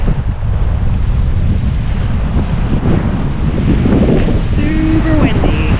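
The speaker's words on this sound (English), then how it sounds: "Super windy." Strong gusts buffeting the microphone in a constant low rumble at Round Lake on the Tahoe Rim Trail, with a faint brief squeak late on.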